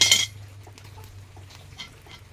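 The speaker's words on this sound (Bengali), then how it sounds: "আমি একটা কড়াই বসিয়ে দিয়েছি এবার আমি কড়ার ভিতরে দিয়ে দেবো স্টান" A metal stand is set down inside a dry wok (kadai) over a wood fire while making ripe palm pitha, giving one sharp, close metallic clank at the start before the sound drops to a faint background.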